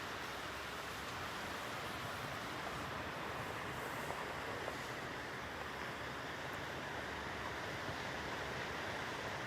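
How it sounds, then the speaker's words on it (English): Ocean surf washing onto the beach at Pawleys Island, a steady broad roar of breaking waves with some wind buffeting, continuous and fairly close throughout. "Waves are peaceful."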